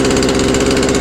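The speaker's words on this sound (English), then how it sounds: "Looks like the idle might be set a little too high because the chain's trying to move" A freshly repaired chainsaw engine idles loud and close, a steady buzzing drone with a fast throbbing pulse and the idle set slightly high, heard alone.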